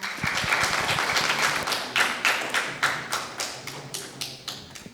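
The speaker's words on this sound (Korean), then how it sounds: "여러분 큰 박수 부탁드립니다." An indoor audience at a health lecture on knee arthritis applauds a hospital director, the dense clapping thinning into a few slower, distinct claps as it fades.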